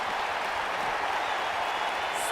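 A video game wrestling crowd in WWE 2K19, set in an arena in Las Vegas, Nevada, roars and cheers in a steady, dense wash of noise that holds at one level throughout.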